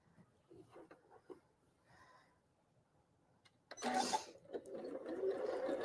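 A sewing machine stitching a quarter-inch seam starts after a few quiet handling sounds and runs as a close, steady whir through the rest of the stretch.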